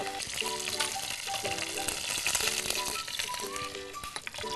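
Curry leaves and asafoetida sizzle in hot oil with popping mustard seeds, a loud continuous frying crackle close up, with a voice talking over it and a tonal melody running alongside.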